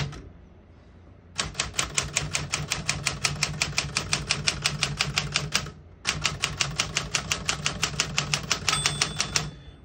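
Rapid, even keystrokes clatter on a 1964 Smith-Corona Galaxie II portable manual typewriter, two long close bursts of crisp mechanical strikes separated by a brief pause.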